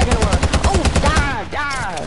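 Gunfire in a shooter video game, a rapid burst of sharp shots for about a second, loud and close, followed by a voice-like tonal sound, with no clearly separate single sniper report.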